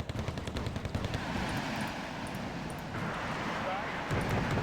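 Wargame Red Dragon battle gunfire: a rapid train of close shots in the first second and a half, then a rumbling wash of distant combat noise, with a voice speaking over it.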